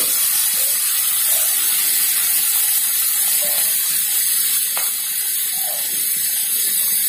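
Mushrooms fry in oil in a wok, filling the space with a loud, steady, close sizzling hiss, dense and unbroken with faint crackles and no talking.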